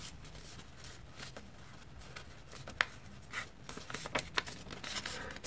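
Sheets of paper being folded and creased by hand into a paper airplane, soft rubbing and scraping with a few sharper crinkles and taps, quiet and close with no talking.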